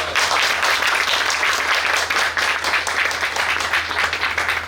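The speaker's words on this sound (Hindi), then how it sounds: "वो सभी भाई स्वयं के लिए तालियां जरूर बजाएं" Loud, close applause fills a workshop hall as attendees clap for themselves, a dense continuous burst lasting several seconds.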